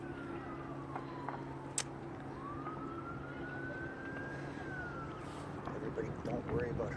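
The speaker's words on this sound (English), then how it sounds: "you can hear the fire engines coming" Fire engines approach a boat fire on a waterway, their sirens wailing faintly and far off in slow rising and falling sweeps over a steady outdoor rumble.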